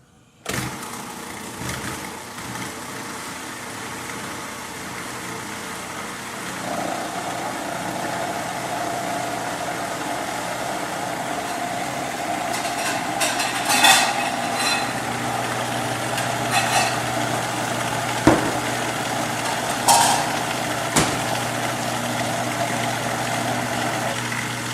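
A blender spins up cauliflower for a creamy keto mash, its motor whirring steadily and loudly through most of the stretch, with a few brief clunks and pitch shifts as it works the thick mixture.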